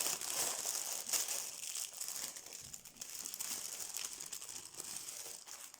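Sheets of paper for a junk journal are handled and crinkled up close, a steady run of dry rustling and crackling that swells and eases in bursts for several seconds, with no talking.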